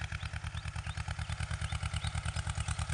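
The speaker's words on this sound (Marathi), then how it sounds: "ज्वारी पेरायला ट्रॅक्टर आला" A heavy diesel tractor engine, brought to a farm to sow sorghum, chugs steadily with a rapid, even thumping rhythm, close and continuous, with no voices.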